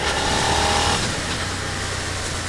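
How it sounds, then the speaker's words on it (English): A 2021 Suzuki SV650 motorcycle accelerates with a clutchless upshift, its engine note rising then briefly breaking before pulling again, steady and moderately loud under wind rush. "I want to talk about clutchless shifting, because it's pretty good, and I'll find a spot where I can accelerate through it"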